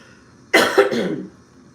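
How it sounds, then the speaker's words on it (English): A single harsh cough burst, close and loud, trailing into a rough throat-clearing rasp before fading. "I told you guys I was coughing up."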